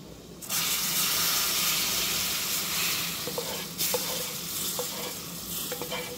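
A thick paprika roux sizzles and fries loudly in a pan as it is stirred and scraped into a pot of bean stew with bacon and sausage, with steady hiss and scattered spoon clinks.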